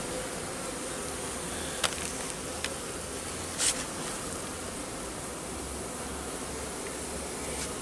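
Honey bees swarm around a hive, a dense steady buzz filling the whole stretch, close and moderately loud, with a few faint clicks and taps and no voices.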